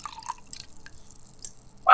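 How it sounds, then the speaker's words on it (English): A drink is poured with light trickling drips that end in a louder splash, all brief and nearby without any talking. "that is a drink being poured"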